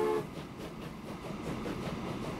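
Train running in the Transport Fever video game on a European map, a steady low rumbling rail sound with faint rhythmic clatter, continuous and moderately loud with no talk.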